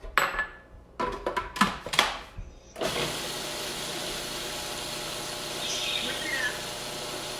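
Electric mixer whipping a coconut macaroon mixture with sugar and salt: a few clattering knocks, then a steady, fairly loud whirring motor drone that runs alone to the end.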